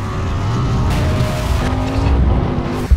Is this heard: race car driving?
yes